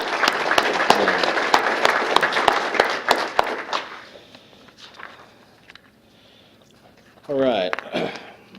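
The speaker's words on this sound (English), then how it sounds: "So let's have a round of applause for" Audience applause at a city employee recognition awards ceremony, a burst of clapping with sharp individual claps that dies away after about four seconds, followed by quiet and then a speaking voice.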